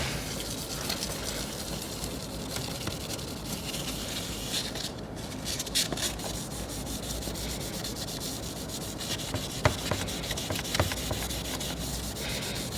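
Steady hand sanding of the glass cover of a VW T5 instrument cluster with a small piece of sandpaper: a continuous close, gritty rubbing with a back-and-forth rhythm and no talk.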